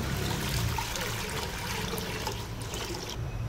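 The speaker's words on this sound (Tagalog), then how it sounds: "Lagyan ng tubig ang kaldero." Water pours into a cooking pot on a lit gas stove, a continuous close splashing rush that holds steady for several seconds with no voices over it.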